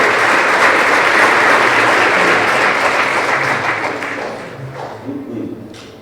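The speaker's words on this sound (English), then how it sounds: "Let's give one round of applause." A round of applause from the crowd at a high school winter sports awards ceremony, dense and loud clapping that tapers off toward the end, followed by a few faint thumps.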